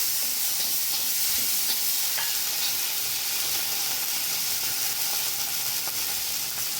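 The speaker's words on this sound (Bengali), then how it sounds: "কাঁচা লঙ্কা আদা বাটাটা দিয়ে দিলাম।" Green chili and ginger paste sizzling in a pan for fish curry, a loud, continuous dense hiss of frying with occasional faint stirring clinks, close and steady with no talk.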